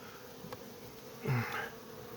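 Faint buzzing of honeybees at a hive, with a brief louder buzz as one passes close, over a quiet background.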